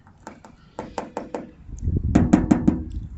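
Knuckles rap on the metal door panel of a 1975 Cadillac Fleetwood under a thin primer coat, first four spaced knocks, then a quicker burst of four sharper knocks over low rumbling handling noise.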